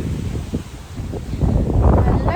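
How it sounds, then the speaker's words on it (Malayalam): Strong wind blows outdoors near a cable car during heavy wind and rain, a steady low buffeting rush on the microphone that swells louder toward the end. "ഭയങ്കര കാറ്റാണ്,"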